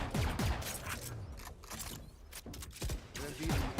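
A weapon is reloaded in the tactical shooter game Valorant, a few quiet mechanical clicks and clacks that come in quick bursts over soft background game noise.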